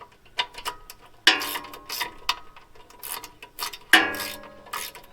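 Wrench ratcheting on 13mm fasteners while assembling a Boss Industrial 4 inch chipper/shredder, close-up metallic clicks in short bursts with sharp clanks between them.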